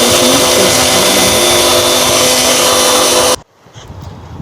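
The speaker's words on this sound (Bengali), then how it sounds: "অল্প কিছু পেঁয়াজ আর রসুনটাকে বেটে নিলাম মিক্সিতে" A kitchen mixer grinder whirring loudly as it grinds onion and garlic into paste, a steady high-pitched motor roar that cuts off abruptly near the end, leaving quiet room noise.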